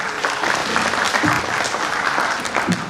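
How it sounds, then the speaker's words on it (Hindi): Audience applause at a 15 August cultural programme after a child's recitation of Rabindranath Tagore, steady dense clapping from a crowd lasting the whole stretch. "जोरदार तालियों से उनका हौसला बढ़ाएं।"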